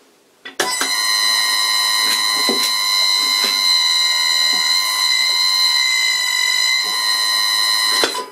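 A lathe motor turning slowly at 10 hertz on bronze bearings gives a steady, close whining drone with layered tonal harmonics. It starts abruptly, holds evenly for several seconds and then cuts off, with no talking.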